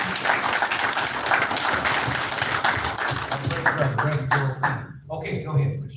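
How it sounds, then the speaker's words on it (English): Audience applause for Reverend Joel King at a public meeting, dense clapping from many hands that thins toward the end, with voices murmuring and speaking underneath as it fades. "Let's give him a round of applause."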